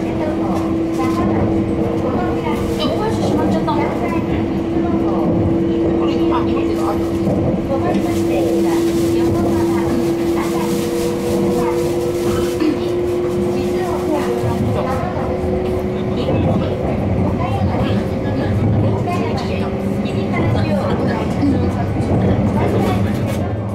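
Sunrise Izumo sleeper train pulling out of Tokyo Station at night, a steady low rumble and sustained motor whine that rises slightly in pitch as it departs, with continuous muffled cabin noise and faint background chatter.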